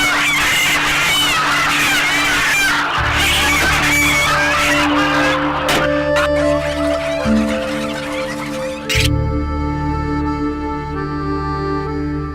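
Caged hens in a commercial poultry farm cluck and squawk in a dense, busy chorus, with a rooster-like crow rising out of the flock. Mechanical hum runs underneath, and the birds fade to a sparser background near the end.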